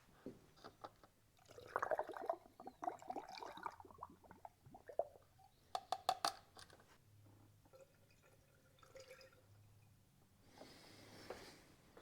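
Oil treatment liquid poured in roughly 110 ml portions into the cylinders of an engine with clogged piston rings, heard as faint, intermittent trickles and drips with quiet gaps between pours.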